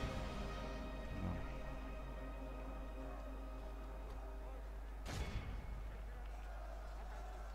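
Battle gunfire in Third Age: Total War with Lorien elves at Moria, a steady dense rumble of shots and impacts with a sharp louder burst near the end, under a continuous low drone.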